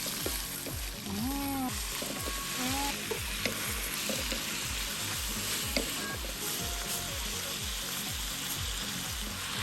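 Garlic fries in oil in a pot belly pan for escabeche, giving a constant close sizzle with a rhythmic stirring scrape throughout and a brief voice near the start.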